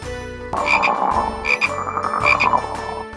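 A cartoon frog croaks in a children's alphabet nursery rhyme with play-dough, repeated croaks pulsing in a steady rhythm over a backing music bed, loud and close.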